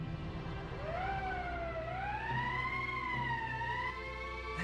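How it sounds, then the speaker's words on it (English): Emergency siren in the video game Valkyria Chronicles, a wailing tone that rises, dips and sweeps up again over a low steady hum, moderately loud and heard alone. "That's the emergency siren."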